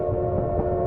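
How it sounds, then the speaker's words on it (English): A train rolls steadily into a busy Paris station as a radio drama effect, a dense, continuous low rumble with a faint brighter layer entering near the end, loud and unbroken with no voices. "the train pulled into the bustling Paris station"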